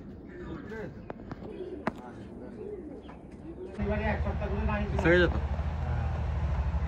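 Racing pigeons at a tournament coo and flutter nearby on a rooftop, their soft repeated calls under steady background noise and people talking.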